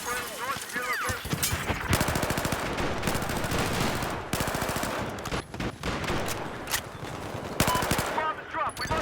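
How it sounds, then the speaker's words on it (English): Machine gun fire in Battlefield 4 during Obliteration mode, rapid sustained bursts of automatic shots, loud and close, with short pauses between volleys and voices talking over the shooting. "Enemy machine gunners operating north of your location."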